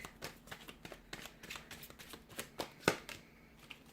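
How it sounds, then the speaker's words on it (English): Tarot cards are shuffled in quick riffling bursts, soft and close, with a sharper snap near the end and no talking. "Keep shuffling."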